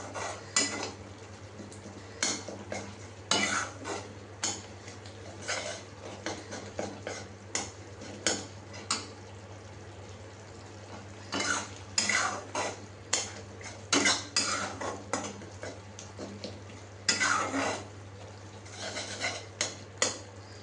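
A spoon scrapes and clinks against a pan while masala is stirred and sautéed. The knocks come in irregular bursts over a low steady hum, with a faint sizzle underneath.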